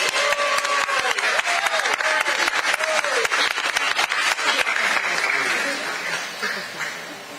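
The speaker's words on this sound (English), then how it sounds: "please give a Hafa round of applause one more time for these exceptional public educators" Audience clapping for honored public school teachers at a Teacher of the Year award ceremony, a dense steady round of applause that carries on for several seconds, then thins and fades toward the end, with faint tonal background sounds.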